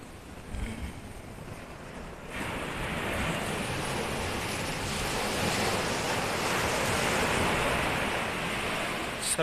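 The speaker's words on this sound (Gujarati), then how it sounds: "નો પ્રખ્યાત બીચ નાગોવા બીચ દરિયા કિનારો" Ocean surf rolls continuously onto Nagoa beach in Diu, a broad steady wash of breaking waves with wind buffeting the microphone, loud and close, with no voices.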